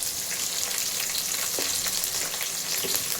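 Onions and chillies fry in a pan for toor dal sambar, giving a steady, close hiss of sizzling oil with a couple of faint stirring knocks.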